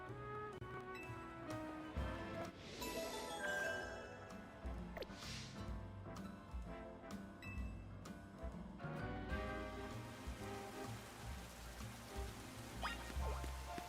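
Rain falls in the Pokémon Legends Z-A video game, a continuous patter of drops and splashes mixed with scattered sharp game sound effects and clicks, moderately quiet and steady throughout.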